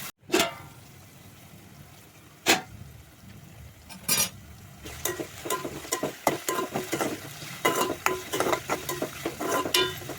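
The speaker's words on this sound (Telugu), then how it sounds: "ఇవైతే ఇంకా కొంచెం ఫ్రై కావాలి." Cut potatoes fry in a pan for aloo curry, with a soft sizzle beneath repeated scraping and clinking of a spoon stirring against the pan, growing busier toward the end.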